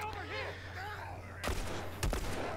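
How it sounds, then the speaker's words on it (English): Gunfire from a firearm in The Last of Us on Grounded difficulty, two sharp loud shots about half a second apart after a stretch of ambient game sound with a low steady hum. "you can see I'm just missing all my shots"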